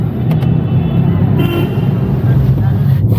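A car pulls up at a roadside pickup in India amid traffic noise, its horn giving a couple of short toots over a steady engine rumble.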